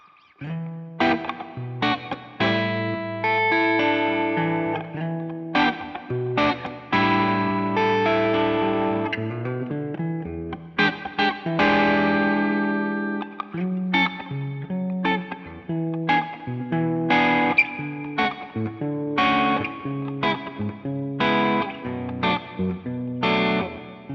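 Clean electric guitar on a Harley Benton RB600 Rickenbacker-style guitar, middle pickup position, plays a strummed, chiming chord pattern with a shimmering chorus effect, steady and up close, no voices.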